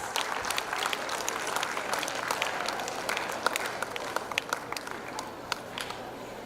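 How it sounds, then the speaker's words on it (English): Audience applause at a school's annual prize day in Jeddah: a fairly quiet, continuous patter of many hands clapping from a distance, sustained evenly throughout. "They truly deserve a huge round of applause."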